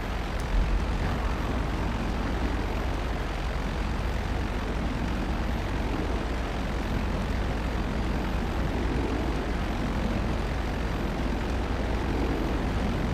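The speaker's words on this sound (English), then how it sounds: "The B-11 can turn better if you're at higher altitude." A B-11 plane in GTA Online flies with a continuous low engine drone and broadband rumble, steady and sustained without pause or voices.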